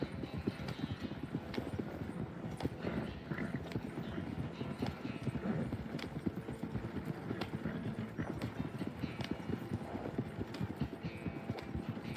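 Horse hooves clip-clop steadily in Red Dead Redemption II, a quick, continuous, fairly close rhythm of hoofbeats on a trail with a faint background bed.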